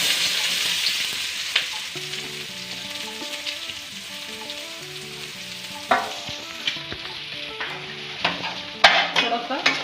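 Potatoes with ginger and green chillies fry in hot oil under a soft hiss, while a spoon scrapes and taps the pan, getting busier and louder toward the end, with no voices.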